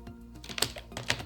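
Short burst of computer keyboard typing, a few quick clustered keystrokes close to the mic, moderately quiet, no talking.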